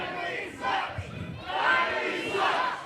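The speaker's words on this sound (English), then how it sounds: "now the crowd letting Rylie know how they feel about him" A pro wrestling crowd jeers and shouts at a heel wrestler, a loud, sustained mass of voices swelling in waves for a few seconds.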